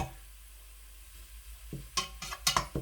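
Onions browned to a reddish colour in a pot for keema rice sizzle faintly, then a few sharp stirring scrapes and clinks of a spoon against the pot follow in quick bursts.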